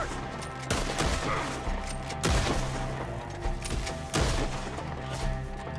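Gunfire from a Red Dead Redemption 2 shootout, with repeated loud, sharp shots crackling in irregular bursts against a busy background of battle noise.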